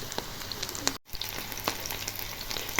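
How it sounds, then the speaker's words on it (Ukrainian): Pancakes sizzle steadily in a hot pan, with occasional sharp crackles and pops and a quick scrape of a utensil. "Все, перевернула. Хай підсмажується."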